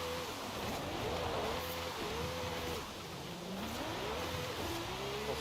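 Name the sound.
car turbo chirping in a video game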